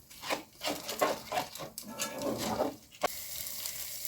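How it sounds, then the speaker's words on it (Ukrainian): Small pasta frying in a pan over medium heat: a steady crackling sizzle with short scraping stir sounds, close by, no voices. "Смажу приблизно до 3 хвилин на середньому вогні."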